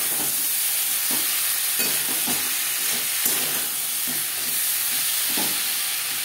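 Ground spices being stirred into potatoes in a pan for a katla fish curry, a steady low sizzle with repeated soft scraping strokes of the spoon at a regular rhythm, close and alone.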